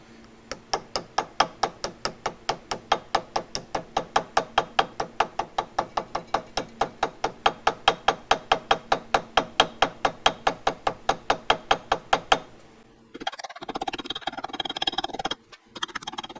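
A small ball peen hammer taps gasket paper against an engine part's edge in a quick, steady, close rhythm of several dozen even strikes, then stops and gives way to softer handling and rustling noises.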